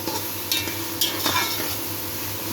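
Onion and meat frying in a pot, a moderate sizzle with a few sharp stirring scrapes and knocks against the pan, no voices.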